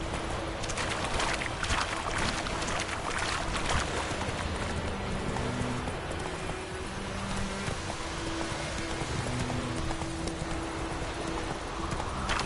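Roach, Geralt's horse in The Witcher 3 video game, gallops with a constant rapid drumming of hooves over a dense noisy outdoor bed, loud and continuous throughout.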